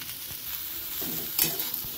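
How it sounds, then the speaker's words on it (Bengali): Oil sizzles steadily in a pan as young jackfruit fries, while a utensil stirs and scrapes now and then, with no voices. "এর মধ্যে আমি এঁচড়গুলো দিয়েও ভেজে নেব একসঙ্গে"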